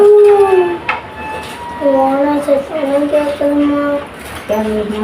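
A dog howls loudly nearby in long, wavering drawn-out cries, pausing briefly and then starting again, with faint clinking of dishes in the background.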